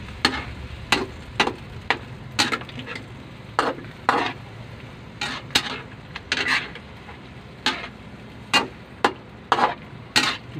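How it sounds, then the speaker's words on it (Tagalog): A spoon stirs adobong atay, chicken liver adobo with pepper and chili, in a pan, giving irregular sharp scraping clacks against the pan over a faint low sizzle. "Pwede na natin yan haluin."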